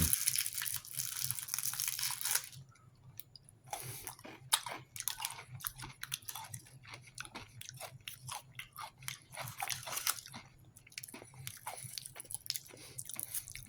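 Close, repeated crisp crunches of someone biting and chewing liqueur-filled hard candy, sharp snaps at an irregular rhythm with moist chewing between them.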